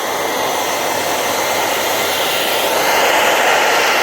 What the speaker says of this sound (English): I'll take a video once I've got a hairdryer just to warm it up and show you